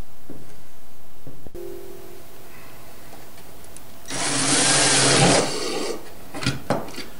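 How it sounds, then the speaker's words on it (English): A power drill whirs steadily for about a second, boring through material, with a few light scraping and clattering noises afterward. "Now that the hole is drilled, just a little cleanup needs to take place."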